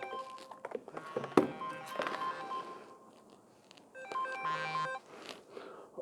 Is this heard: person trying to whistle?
no